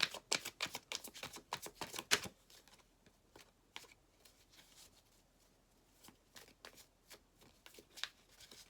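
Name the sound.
tarot cards being handled and turned face up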